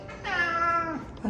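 A street cat gives a single drawn-out meow on a summer night, close and fairly clear, fading out after about a second.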